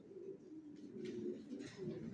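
Young racer pigeon chicks coo softly and repeatedly at close range, low throaty murmurs rising and falling over a quiet background.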